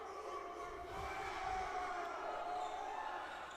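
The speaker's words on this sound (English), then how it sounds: "Barking is what you just heard from the loud crowd" A loud student crowd at a girls' basketball game chants a barking chant in a steady, rough rhythm, filling the space with layered voices in a big indoor arena.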